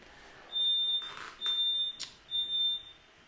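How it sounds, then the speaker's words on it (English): A smoke alarm sounds three long, piercing beeps in a steady repeating pattern, loud and close, with short pauses between them. "Let me get that smoke alarm taken care of."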